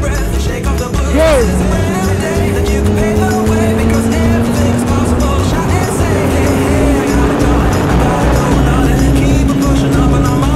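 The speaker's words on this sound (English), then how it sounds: "Let's race, buddy. Harley versus Gixxer." Harley-Davidson and Suzuki Gixxer motorcycles race side by side, engines droning loud and steady with rising, shifting tones throughout, close and continuous.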